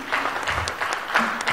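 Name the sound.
audience applause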